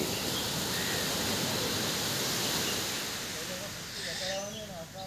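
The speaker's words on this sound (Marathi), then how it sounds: "अतिशय सुंदर असा नजारा, समुद्र किनारा आणि हे आपलं मालवण।" Sea waves break along Malvan beach on the Sindhudurg coast of Maharashtra, making a steady, loud, broad roar of surf that fills the whole stretch, with a voice briefly heard near the end.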